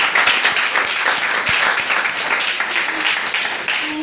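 A church congregation applauds the Lord in a steady, dense wash of clapping from many hands that carries through the whole moment, with some voices mixed in.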